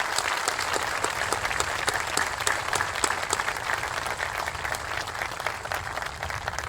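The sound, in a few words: audience applause for veterans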